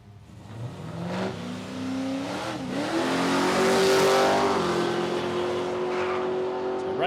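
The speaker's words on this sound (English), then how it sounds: "So Ray Ford, you can hear him flap on the throttle there at the start line there." Drag race car at the start line of a drag strip, engine revving loudly with rising throttle blips that build into a sustained high roar, close and steady throughout with no talk.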